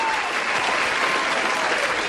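An audience on a Hindi film radio quiz show claps steadily throughout, loud and dense, with no break.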